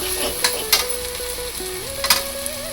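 Tomatoes sizzle steadily in a hot pan, with occasional clicks and scrapes of stirring.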